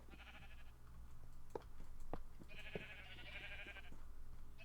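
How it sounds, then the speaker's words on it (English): Sheep in a Minecraft modpack game bleat in two short, nasal bursts over a steady low hum, with scattered faint clicks between them. "I hear my sheep."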